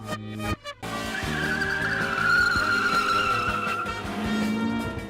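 Richard's VW Golf GTI tearing around a track, tyres squealing in a long sustained skid over a steady engine roar, loud and close after a brief initial gap.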